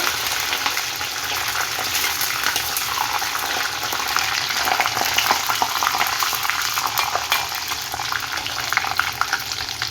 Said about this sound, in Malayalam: തേങ്ങാക്കൊത്തൊക്കെ നന്നായി മൂത്ത് വന്നിട്ടുണ്ട്